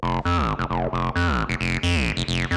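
A squelchy TB-303-style acid synth bassline plays short gliding notes in a bouncy, repeating pattern, dry and upfront with no reverb or room echo.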